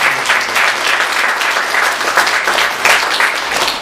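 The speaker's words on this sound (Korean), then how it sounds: "다 같이 우리 다시 한번 박수" A church congregation at a Palm Sunday worship service applauds together for birthday celebrants, a steady, dense clapping from a full room lasting several seconds without pause.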